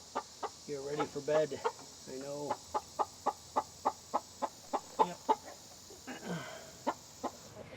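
Chickens in a coop cluck in a steady run of sharp, evenly spaced calls, close and fairly quiet, with a few longer squawks mixed in and a voice speaking briefly.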